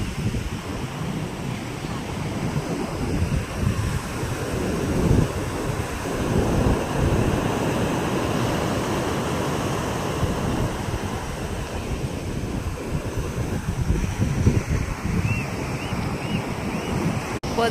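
Strong wind buffets the microphone on a Chennai beach while waves and surf roar steadily throughout, loud and continuous, with no clear talk.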